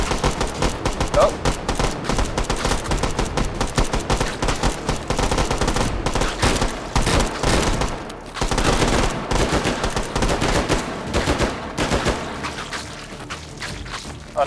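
Sustained bursts of gunfire in the virtual reality shooter H3VR, from a gun firing three-round hyperbursts and full-auto bursts, come in dense, loud, near-continuous rattling volleys with a few short gaps and no talking.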